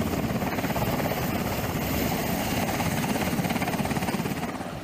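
Military helicopter rotor noise at sea fills the clip with a steady, rapid chopping thrum, loud and continuous, fading slightly at the end.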